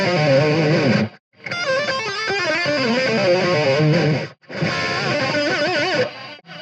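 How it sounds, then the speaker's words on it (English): A distorted electric guitar plays a minor pentatonic lick spanning two positions, fluid runs of notes bent by pull-offs and slides, in two phrases separated by short silences, loud and close with no talking. "Very cool little minor pentatonic lick over 2 positions."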